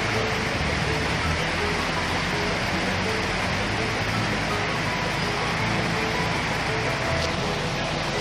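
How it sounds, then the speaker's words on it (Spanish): Continuous heavy rainfall in Siloé, Cali, Colombia, roaring evenly throughout, a thick wash of noise with faint background rumble. "comienza pues a llover en Siloé."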